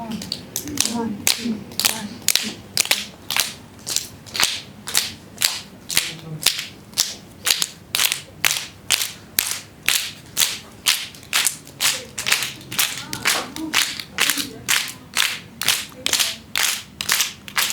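A group claps together in a steady, even rhythm, roughly two claps per second, loud and sustained, with faint voices underneath.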